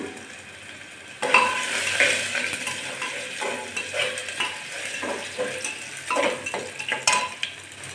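Cinnamon, cloves, cardamom, bay leaf, dried chilli and grated ginger sizzle in hot oil for khichuri, with bursts of spattering and scraping stirs of a metal spoon against the pan, close and fairly loud.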